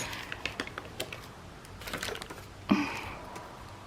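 Paper torn open along one side while crafting a postal journal, a single short rip standing out near the end after soft, scattered handling rustles; close and fairly quiet.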